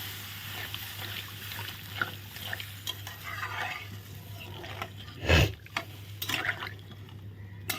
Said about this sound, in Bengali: এখন ভালো করে নেড়ে চেড়ে মিলিয়ে দেবো